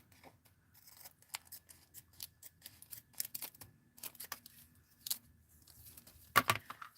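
Scissors snip through embellishment material in a quiet craft studio, a series of short crisp cuts spread irregularly over several seconds, ending in a louder close double snip.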